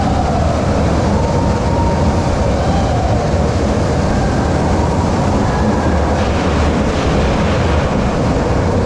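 Roller coaster ride at Parc Bagatelle, a continuous loud rumble and roar of wheels on track with rattling and whooshing wind noise throughout, close and unbroken.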